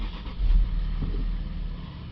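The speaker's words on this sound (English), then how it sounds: "Okay, start the vehicle up" A Land Rover Discovery 5 3.0 engine cranks and catches, then settles into a steady close idle with a low rumble, and no talking is heard.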